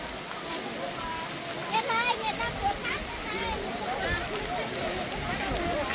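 Heavy rain pours in the pre-dawn dark during a monk's alms-round walk in Vietnam, a steady broadband hiss and splatter running throughout beneath people talking.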